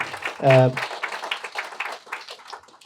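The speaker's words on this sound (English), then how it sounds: "give them a big round of applause for everything that they've done" An audience at a volunteer appreciation event gives a round of applause; one voice cries out sharply near the start, then scattered, moderately close clapping continues and gradually tapers off.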